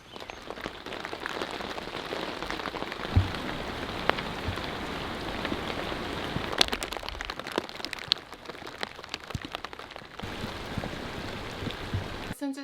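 Rain falls steadily outside an off-grid home, a dense, even patter with scattered sharper drips throughout.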